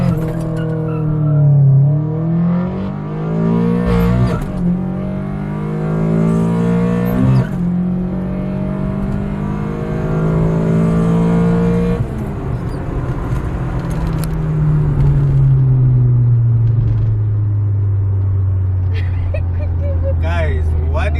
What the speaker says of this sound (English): Guys, what do you think of that launch on this car?